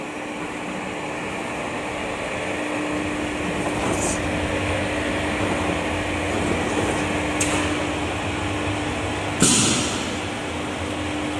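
A 25 kg powder bag packing machine with a lifting system, vacuum conveyor and auger feeder, running as a steady mechanical hum with a faint tonal whine and a few short hissing air bursts near the end.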